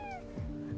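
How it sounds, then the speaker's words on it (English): Cat meowing during a nighttime cat fight, a short, faint, drawn-out yowl rising and falling over background hum. "There's a cat fight going on."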